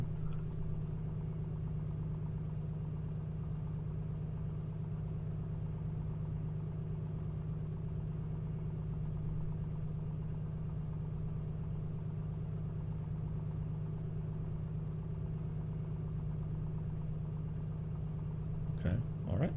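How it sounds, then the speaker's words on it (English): A2A Piper Comanche aircraft engine idling in Microsoft Flight Simulator 2024, a steady low droning hum with a constant tone, continuous and even throughout with no talk over it. "You need to switch off the engine."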